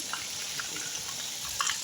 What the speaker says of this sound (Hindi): तो देखो जी हमारे गांव में बारिश आ रही है।